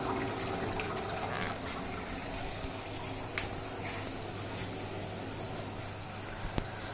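Coolant trickles through a top filter and a fabric layer and falls back into the tank of an epoxy granite CNC mill, a soft, continuous splashing flow with a couple of faint clicks and no talking.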